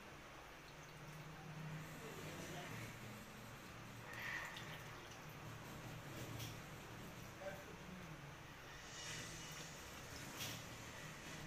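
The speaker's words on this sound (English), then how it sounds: "pour water till it immerses the toy." Water runs and trickles steadily into a container holding toys, faint and close, with a soft continuous splashing and an occasional drip.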